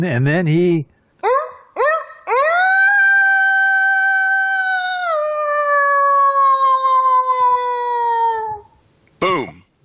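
A man vocally imitates an old hound dog howling at the moon, with a few short rising yelps and then one long sustained, slowly falling howl, loud and close, with brief talk before it.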